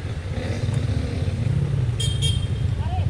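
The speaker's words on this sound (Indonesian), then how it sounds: "Oh, ini motor ini yang dua tak ini." A two-stroke motorcycle engine passes on a road with a steady, buzzing drone over traffic rumble. A brief horn-like toot sounds near the end.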